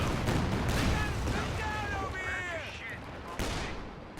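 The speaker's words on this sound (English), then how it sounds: "Calliope, once again, very long range Calliope barrage." Calliope rocket artillery barrage in Company of Heroes 2, a loud crackling salvo of rocket launches and blasts filling the scene, with voice chatter underneath.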